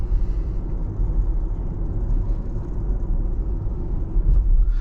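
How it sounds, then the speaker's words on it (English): A BMW iX xDrive40 electric SUV accelerating, its drive sound designed by Hans Zimmer heard as a steady low hum and rumble from inside the cabin, continuous and fairly loud throughout with no talking. "You can hear the iconic sounds that's built by Hans Zimmerman for the BMW"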